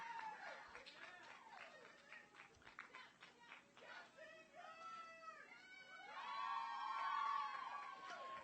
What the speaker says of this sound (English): James Madison crew cheering their men's varsity lightweight 4 that just finished their race as they go to the recovery dock